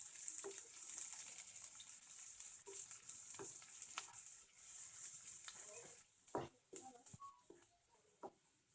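Onions and green chillies for egg chowmein fry in a pan, giving a faint continuous sizzle broken by scattered clinks and scrapes of stirring, heard up close but quietly.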